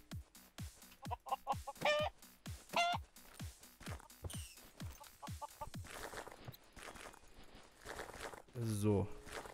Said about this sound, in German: komm her, du Huhn